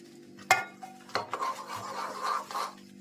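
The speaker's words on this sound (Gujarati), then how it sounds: "અડદિયાનો લોટ શેકાઈ ગયો છે પછી આ માવો નાખી દેવાનો એટલે માવો શેકાઈ જાય" Mawa is stirred and roasted with adadiya flour in a pan, with gritty scraping strokes and a sharp metallic knock, close and moderately loud over a low background hum.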